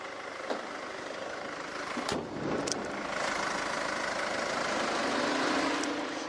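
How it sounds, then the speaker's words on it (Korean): A SsangYong Korando C SUV's diesel engine idles steadily up close with the hood open, a continuous even clatter and hum at moderate loudness, with no talking. "엔진 소음 먼저 들려드리면은 이 정도의 엔진 소음 만나보실 수가 있고요"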